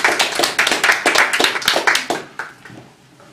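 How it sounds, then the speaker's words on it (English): An audience claps for a returning performer, a burst of dense, close hand claps with a few sharper individual strikes that thins out and fades over about three seconds. "big round of applause for the return of Mubachel Lehman"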